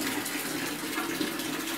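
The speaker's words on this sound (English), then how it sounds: "It's bucket filling time for the van" Water runs from a tap into a bucket in a steady, dense rushing gush, close and continuous with no voices.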